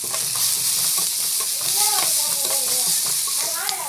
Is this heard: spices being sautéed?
yes